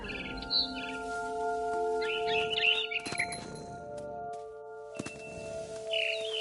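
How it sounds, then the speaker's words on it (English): High chirps from a barn swallow come in short separated bursts over a low ambient drone in What Remains of Edith Finch, the calls moderately near and light against the quiet backdrop. "Then I heard chirping outside my window. It was a barn swallow going back to her nest."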